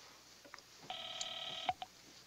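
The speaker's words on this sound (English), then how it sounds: "Call the Felici house" A telephone is dialed in a 1957 crime film, giving a few faint clicks and then one sustained touch-tone beep, followed by a brief click, all quiet over a low hiss.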